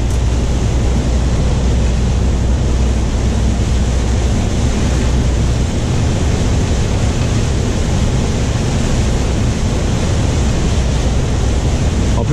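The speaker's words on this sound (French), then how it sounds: "Ah, là il pleut, hein." Steady broadband wash of heavy rain heard from inside a driving car, loud and continuous, with a constant low rumble and gusty wind underneath; no voices.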